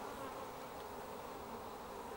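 A steady, dense buzz of many honey bees droning together on a farm, continuous and even throughout.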